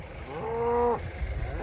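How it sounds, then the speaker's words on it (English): A single cow lets out a long, low moo in a field on a livestock farm. The call is close and fairly loud and lasts under a second, over a rough outdoor background. "Cows everywhere."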